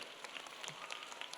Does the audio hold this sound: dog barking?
no